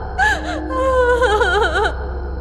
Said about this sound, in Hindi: उसे फिर से लड़की की रोने की आवाज सुनाई दी